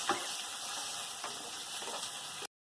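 Chopped onion sizzling in hot oil in a home kitchen, a quiet, steady frying hiss with a couple of faint stirring clicks, close by, cutting off abruptly at the end.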